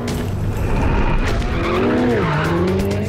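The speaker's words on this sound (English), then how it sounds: "Sliding a 700 horsepower Ferrari shouldn't be this easy, but the Pista makes it child's play." Ferrari 488 Pista with a 700 horsepower engine sliding sideways, loud tire squeal and skidding over a roaring engine, pitch sweeping as the drift goes on, close and continuous.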